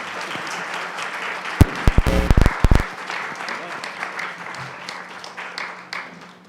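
An audience at a mathlete competition breaks into applause, starting as a short burst of sharp claps and then settling into lighter, scattered clapping under a low room hum.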